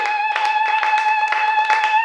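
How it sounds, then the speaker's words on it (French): A church congregation claps together in a steady, loud, continuous patter of many hands, filling the space without a break, with a sustained tonal sound running beneath the clapping. "Applaudissons, s'il vous plaît"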